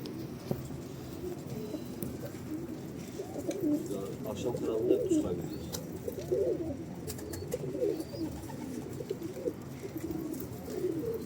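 Pigeons cooing at feeding time, soft repeated coos mixed with flutters and faint pattering, heard close over a constant background hum for the whole stretch.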